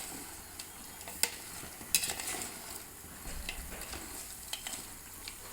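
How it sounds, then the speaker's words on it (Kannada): Cooked food being sautéed in a tempering in a pan gives a faint, steady sizzle with occasional soft stirring scrapes, close but quiet and without talk. "ಇದೊಂದು ಸ್ವಲ್ಪ ಒಗ್ಗರಣೆಲ್ಲೇ ಒಂಚೂರು ನಾವು ಬಾಡಿಸ್ಕೊಳೋಣ"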